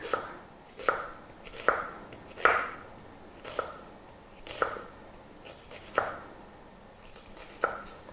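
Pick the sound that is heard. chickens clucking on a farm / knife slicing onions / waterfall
knife slicing onions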